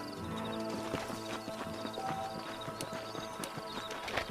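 Horses from the Red Dead Redemption video game being ridden, with steady clip-clop hoofbeats at a walking pace and occasional snorts, moderately close.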